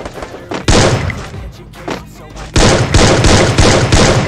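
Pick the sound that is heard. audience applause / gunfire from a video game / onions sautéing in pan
gunfire from a video game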